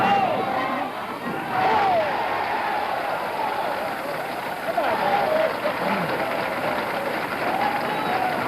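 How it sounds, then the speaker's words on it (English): Crowd at a professional bowling event roaring and cheering after a bowler's 11th straight strike, a sustained loud wash of voices and applause with a commentator's voice over it. "When you get that 11, the crowd really comes alive"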